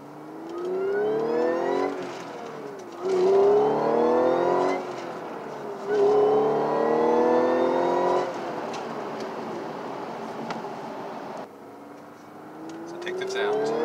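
Audi S4 B8.5 with a Stage 2 tune accelerating hard with the windows up, engine note rising in three long pulls with brief shift dips, heard from inside the cabin, steady and fairly loud.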